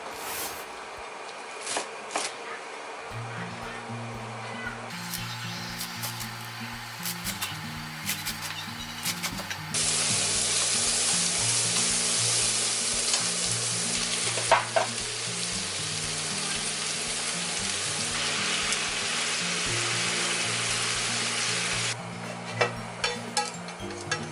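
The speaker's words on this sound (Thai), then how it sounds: "ตอนเย็นแม่ออยก็จะนำมาทำเป็นอาหารง่ายๆค่ะ โดยนำมาผัดกับหัวใชเท้าค่ะ" Daikon seedling leaves and daikon radish sizzling as they are stir-fried in a home kitchen, a steady crackling fry with scraping and stirring over a layer of music, rising louder midway.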